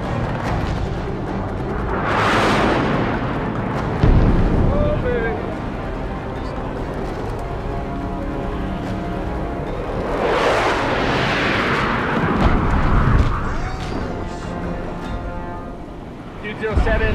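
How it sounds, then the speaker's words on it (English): Airstrike bombs exploding in Afghanistan, heard as two heavy, booming blasts several seconds apart that roll out into a long rumble over steady wind noise, distant and powerful. "Good bombs, good bombs."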